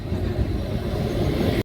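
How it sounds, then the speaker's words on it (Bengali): A local train rumbles steadily nearby at a busy station on a cloudy day during Muharram in Lalbag, a dense low roar that cuts off abruptly. "ট্রেন চলে এসছে"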